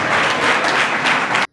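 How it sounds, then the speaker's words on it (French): A crowd at a Beninese handover ceremony applauds loudly, a dense, close roar of clapping that cuts off abruptly after about a second and a half. "Applaudissez pour vous"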